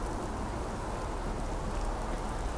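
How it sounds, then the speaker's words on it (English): Steady rain falls throughout a late-night scene in the space exploration game Starfield, a dense, even hiss of drops on surfaces with no voices. "I appreciate a good late night rain."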